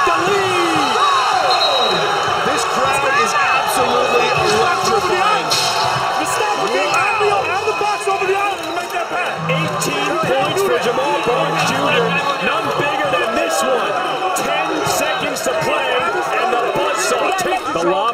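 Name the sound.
cheering crowd at a SlamBall game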